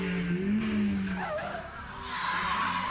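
A drifting Nissan's tires skid with a sustained squeal over engine drone as it slides toward a guardrail, loud and close for a few seconds.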